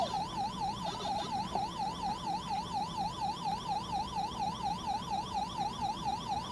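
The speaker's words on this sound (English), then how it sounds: "This Pac-Man has more of a high-pitched sound to it." A high-pitched, warbling Pac-Man siren from a retro mini arcade wails up and down in a steady rapid cycle, with electronic bleeps layered above, fairly faint and continuous.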